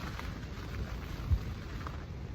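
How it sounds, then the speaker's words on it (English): Strong wind and rain at a carp fishing lake, heard from inside a bivvy as a steady roaring rush with pattering rain and one brief low thump midway. "savage wind at the minute and rain."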